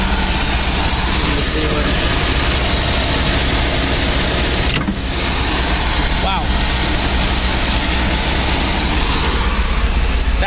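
An MGB's engine runs steadily on the choke just after a carburettor rebuild, a loud continuous idle rumble filling the whole stretch while someone speaks briefly over it.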